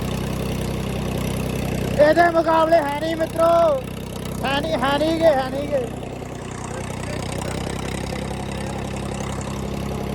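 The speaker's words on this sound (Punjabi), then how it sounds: "ਬੜਾ ਮਾਰਦਾ ਟਰੈਕਟਰ ਆਪਣਾ" A steady, mid-loud tractor engine drone continues throughout while someone speaks over it in short bursts.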